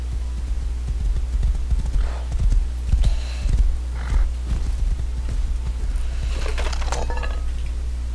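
Horse hooves clip-clopping in a multiplayer survival video game, a steady run of hoofbeats with occasional clinks over constant low background hum, no talk.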